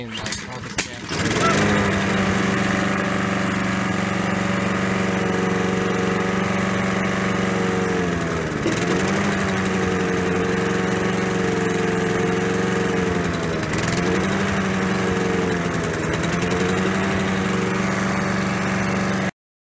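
A gasoline lawn mower engine running on 30-year-old fuel idles steadily and loudly for the whole stretch, its drone dipping briefly a few times as the revs sag and recover.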